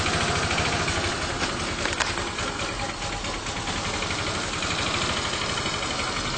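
A Lance Duke Touring 150 scooter with a clutch-driven automatic clutch idles loudly and steadily up close, its small single engine chattering with an even, busy rhythm and no voices over it.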